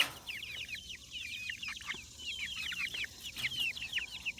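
Small bantam chickens, including a frizzle chick, clucking and chirping in a coop, a busy run of quick high-pitched calls, fairly close but soft, with no talking over them.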